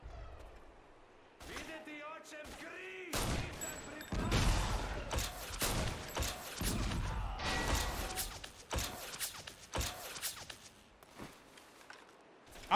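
Sporadic gunfire in 50 Cent: Blood on the Sand, a third-person shooter game, with pistol shots and bursts scattered over game effects while a player talks now and then.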